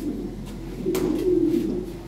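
A fancy pigeon with deep red eyes and beak coos softly at a sale in Lahore, one low, throaty, rolling coo swelling midway over a quiet background.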